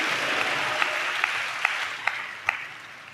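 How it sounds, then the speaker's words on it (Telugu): A church congregation applauds loudly during a sermon, a dense wash of many hands clapping with a few sharper individual claps standing out, sustained and fairly close with no talking. "వడదాం చప్పట్లు గట్టిగా,"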